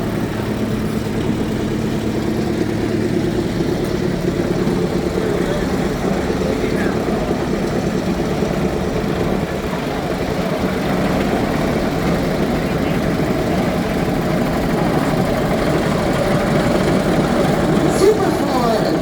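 A vintage Huber Super Four tractor engine runs steadily in a parade with a deep, rumbling drone, close by and constant, over a murmur of background noise.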